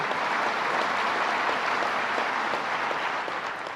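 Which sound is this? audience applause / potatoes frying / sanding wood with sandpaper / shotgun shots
audience applause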